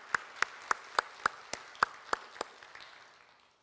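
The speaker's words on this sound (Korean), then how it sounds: "우리 감사한 마음으로 하나님께 감사의 박수 한번 올려드릴까요?" A few people in a church congregation clap sparsely at a youth next-generation festival worship service, about nine distinct claps in a loose rhythm that fade out, with no talking.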